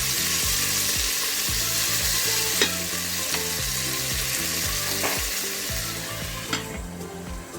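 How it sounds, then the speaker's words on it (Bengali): Food sizzles steadily in a salted, covered pan on the stove, a loud continuous crackle with a few sharp pops and spits, alone and close with no talk. "এখন এটাকে ঢেকে রেখে দেবো, ভালো করে ভাজতে দেবো"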